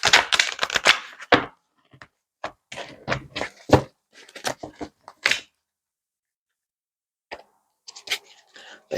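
A deck of tarot cards being shuffled by hand, with quick papery riffles and taps in bursts, then a long pause and a few final soft flicks close to the microphone.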